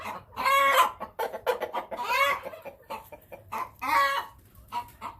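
Farm chickens, a rooster among the hens, give several loud, drawn-out clucking calls close by, in three main bursts separated by brief quieter clucks, with no talking.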